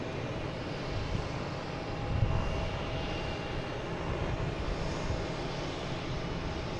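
An Embraer Phenom 300 business jet takes off at Boston Logan airport, a faint, distant steady roar with a broad hiss that swells briefly and then holds at a low level.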